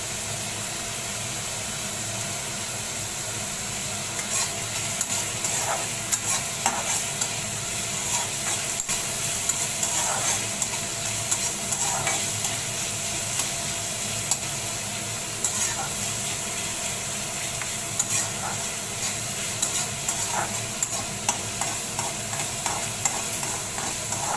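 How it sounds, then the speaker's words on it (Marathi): Onion, garlic and green chillies fry in a pan for a dry clam dish, with a constant close sizzle and hiss and occasional light spoon scrapes and taps. "कांदा थोडा आता गुलाबी होत चाललाय"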